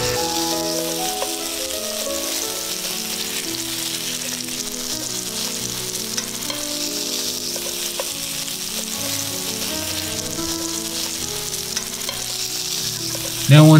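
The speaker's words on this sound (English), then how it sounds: "Now once you are done searing the fish on both sides" Tandoori turbot fish sears in a hot pan with a loud, dense, continuous sizzle and spitting that holds steady all the way through, with no voices.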